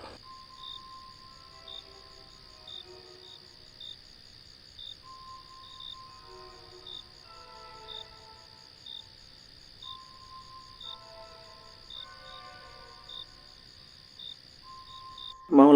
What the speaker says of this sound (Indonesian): Suasana hening, terdengar suara jangkrik.